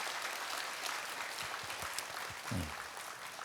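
A congregation at a Wednesday worship service in Yeouido Baptist Church bursts into hearty applause, a continuous rustling wash of clapping that stays fairly even throughout, with a few low thumps near the end.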